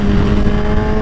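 Engine of a 1000cc motorcycle in first gear, with traction control fully on, holding a loud, steady, strained drone at high revs, close and continuous through a brief moment with no talk.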